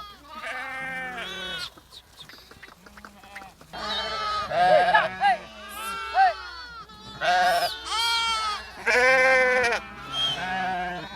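Sheep bleat repeatedly as they are herded into a pen, several animals calling over one another in loud, wavering cries, with some quieter bleats in the gaps between.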